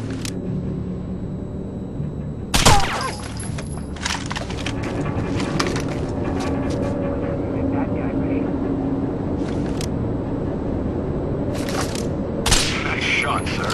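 Gunfire in the video game Rainbow Six Vegas 2 during a hostage negotiation mission, a loud sharp shot crack followed by a few lighter bursts over a constant background hum while a voice speaks throughout.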